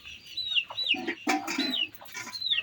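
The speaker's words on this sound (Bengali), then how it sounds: "দেশি মুরগি" Native village chickens cluck repeatedly nearby, a run of short squawky calls overlapping one another over a low background hum.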